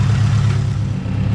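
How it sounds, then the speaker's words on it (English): A tuned 840 whp 2018 Subaru WRX STI idles at operating temperature, a steady low rumbling drone held close and loud for the whole short stretch. "So I'll let it keep idling a little bit more just so we can test it,"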